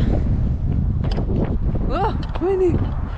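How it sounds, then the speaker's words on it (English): Steady wind rushing across the microphone with a low rumble at Lava Butte trail near Bend, Oregon, while a person speaks briefly over it. "Oh, windy."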